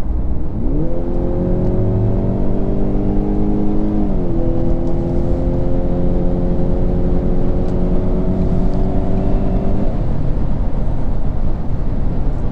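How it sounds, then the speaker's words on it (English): A Ford Fusion sedan accelerates while merging onto a highway; the engine note rises steadily, dips at a gear change, then climbs again before easing off, all over loud constant road and wind roar. "it does get up and go when you need it to, just like when I did now merging out on the highway"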